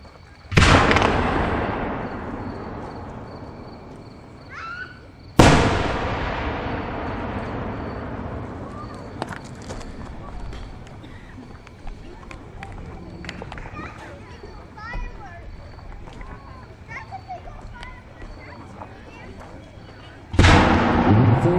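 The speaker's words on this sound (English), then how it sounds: "we're going to be treated some really nice big shells, including a couple 16-inch shells tonight." Big aerial firework shells, including 16-inch shells, bursting at a fall fireworks demonstration: three loud booms that each trail off into long crackling rumbles, with a crowd and children faintly audible in between.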